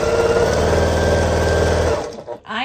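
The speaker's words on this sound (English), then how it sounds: "I am sewing on a Faf Grand Quilter." A Pfaff Grand Quilter sewing machine stitching fabric scraps for a quilt block, a loud, close, fast steady hum with rhythmic needle chatter that stops abruptly near the end.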